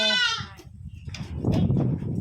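A young goat kid gives a single clear, wavering bleat at the start, then muffled rustling and shuffling noises follow nearby.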